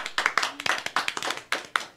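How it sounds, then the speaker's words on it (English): A small group claps for Miss Malibu on a radio show, a quick, uneven burst of close handclaps with no speech over it. "Let me get a clap for Miss Malibu,"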